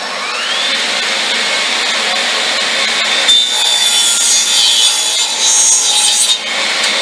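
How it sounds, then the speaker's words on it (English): A power saw cuts wood pieces for a birdhouse, running with a dust vacuum system, making a loud, steady whining buzz that shifts in pitch as the blade bites through the board. "Then I turn on the saw."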